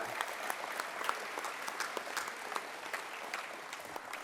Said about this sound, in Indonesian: Sekali lagi mari kita tepuk tangan